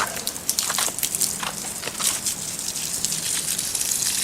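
Water gushing from a hose or tap onto garden plants, a broad rushing spray with crackling splashes, close and steady for several seconds with no talk.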